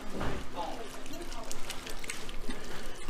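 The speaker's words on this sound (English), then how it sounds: "Adding white vinegar." White vinegar is poured into grated horseradish, a soft continuous splashing trickle of liquid close by, heard under a person talking.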